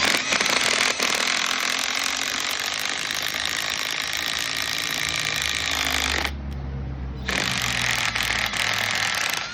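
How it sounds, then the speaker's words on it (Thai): A Dong Cheng DCPL208 20V cordless impact drill runs hard boring into wood with a rapid, rattling hammering, pausing briefly before the brushless motor grinds on again, loud and close. "หรือจะเป็นงานเจาะไม้นะครับ"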